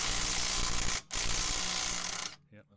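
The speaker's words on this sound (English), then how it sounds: "Harry has lent me his very handy impact double driver, so I'm just going to undo the wheel nuts now" An impact driver loosens the wheel nuts on a Triumph Stag, giving a loud, continuous buzzing rattle that stops briefly near the one-second mark, then resumes and cuts off abruptly, followed by a short faint tail.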